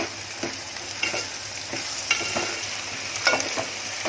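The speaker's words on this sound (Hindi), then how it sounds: "ये देखो, इसमें भी करी पत्ता डाल रही हूँ और इसमें भी डाल रही हूँ।" Onions and curry leaves fry in a pan with a steady low sizzle, broken by periodic scraping stirs and soft clinks at close range.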